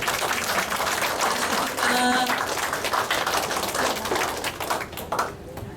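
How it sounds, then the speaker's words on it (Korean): Warm welcoming applause from a seated audience in a lecture hall greets a guest speaker arriving for a talk, dense steady clapping filling the room throughout before thinning out at the end. "여러분 뜨거운 박수로 이승민 박사님을 모시겠습니다."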